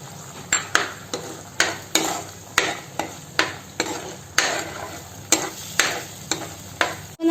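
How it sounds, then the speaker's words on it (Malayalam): Ground masala paste for Kerala-style mackerel fish curry being sautéed in a pan, with a steady low sizzle broken by a regular series of sharp scraping, stirring strokes roughly every half second, close up and with no talking. "ഇതിലേക്ക് കുറച്ച് മീൻപുള്ളിയോട് ചേർത്ത് അരപ്പ് നന്നായി വഴറ്റിയെടുക്കാം."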